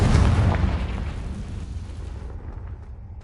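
A Confringo fire spell bursts in Hogwarts Legacy, a loud deep boom that rumbles and fades over a few seconds, with no talk.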